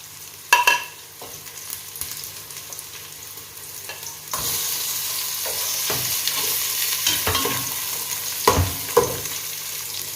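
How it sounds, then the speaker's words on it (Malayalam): Green chilies added to onions sizzle and fry in a pan for chicken majboos, with a steady hiss and several sharp stirring clatters close by; no talking. "സവാള നന്നായി ചെറുതായി ഒന്ന് കളർ മാറി വരുമ്പോൾ നമുക്ക് അതിലേക്ക് എടുത്ത് വെച്ചിരിക്കുന്ന ഈ പച്ചമുളക് ചേർത്ത് കൊടുക്കാം."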